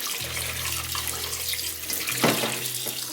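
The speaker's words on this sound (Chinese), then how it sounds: "我们来清洗一下牛肉，去掉上面的血沫子。" Beef is rinsed under a running kitchen tap, a steady hissing stream with brief splashy bursts as the meat shifts under the flow, close and alone without talk.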